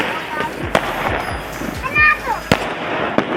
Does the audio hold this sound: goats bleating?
no